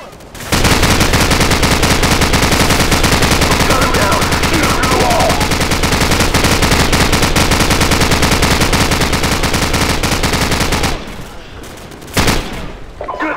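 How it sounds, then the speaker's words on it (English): Sustained, loud machine gun fire in Call of Duty 4: Modern Warfare, a long unbroken rapid rattle of rounds lasting about ten seconds, then cutting off to scattered quieter shots. "Hit their flank with their machine gun!"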